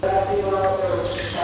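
Water is poured or run from a tap in a kitchen while cooking, a continuous close splashing rush filling the whole brief moment.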